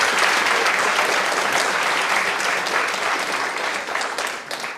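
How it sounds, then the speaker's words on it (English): An audience at a legal awareness workshop on consumer protection applauds the winners and participants, dense and loud clapping sustained throughout before slowly tapering at the end. "A big round of applause for all of them,"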